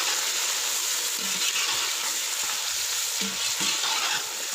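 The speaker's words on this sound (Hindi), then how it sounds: "2 से 3 मिनट के लिए चिकन को प्याज के साथ अच्छी तरह भून लेंगे" Chicken pieces fry with onions in a pan, giving a steady, close sizzle throughout, with a few soft scrapes of stirring rising above it.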